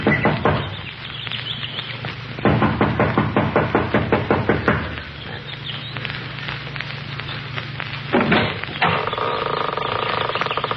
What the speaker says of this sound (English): She knocks impatiently